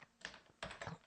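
Quick bursts of keystrokes on a computer keyboard, two short clusters of close, crisp clicks with a brief pause between, and no talking.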